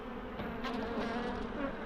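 Honey bees buzz around a beehive fitted with doorway markers in an apiary, a steady close droning hum with no talking.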